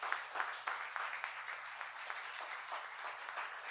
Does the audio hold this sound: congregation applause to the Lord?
yes